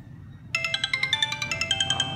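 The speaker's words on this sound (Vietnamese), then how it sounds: "đây là nhạc chuông của Sony từ xưa đến nay rồi" A Sony Ericsson W705 slider phone plays its stock ringtone, a bright chiming melody of quick pulsing notes that starts suddenly after a brief quiet hum and continues loud and close.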